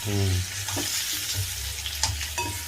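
Brinjal pieces sizzle and fry in an oiled pan with turmeric while being made into pickle, with a steady close hiss and occasional soft stirring scrapes.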